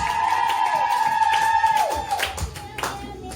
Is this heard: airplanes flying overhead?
no